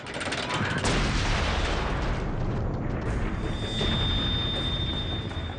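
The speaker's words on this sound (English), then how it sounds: "the Austrian artillery's Skoda cannons enter into action against Belgrade" Austrian Skoda artillery cannons firing on Belgrade in July 1914, from an archival war film: a dense, continuous roar of booming gunfire with no clear gaps, loud and rumbling throughout.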